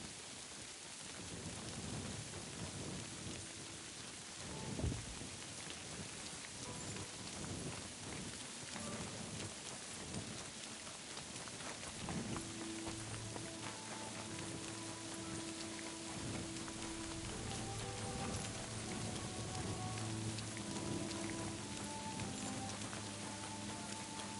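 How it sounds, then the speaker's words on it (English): Steady heavy rain pours in the video game Kingdom Come Deliverance 2, with a low rumble of thunder near the start and a continuous dense patter that fills the whole scene. "Fucking rain."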